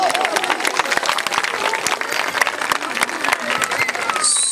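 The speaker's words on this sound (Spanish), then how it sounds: "aplausos para ellos" Crowd at a school presentation of a religious brotherhood applauding the teachers, loud close clapping with distinct individual claps and some crowd voices mixed in.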